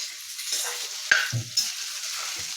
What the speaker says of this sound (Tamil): இந்த முந்திரி பருப்பும் போட்டு அந்த எண்ணெயிலே இது பண்ணிவிட்டு ஆஃப் பண்ணிடணும்